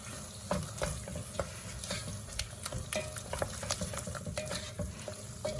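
A cornstarch and water mixture thickening in a pan as it is stirred, quiet soft sizzling broken by frequent scraping and tapping strokes of the utensil in an uneven rhythm.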